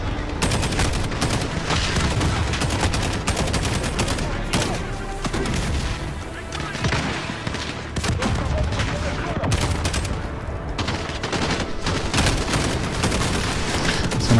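A grenade blast in the video game Call of Duty Modern Warfare, set within a constant roar of rapid gunfire and explosive booms that stays loud and dense for the whole stretch.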